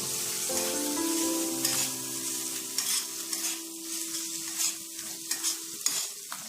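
Tomato and Kashmiri chili powder are stirred in a frying pan. A soft sizzle runs under repeated scraping strokes of a spoon, close up, with a faint sustained tone in the background, and no voices.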